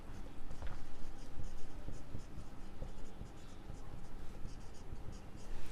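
Pen scratching on paper while an accounting entry is written out during a commerce lesson, steady soft strokes close to the microphone, fairly quiet with faint background noise.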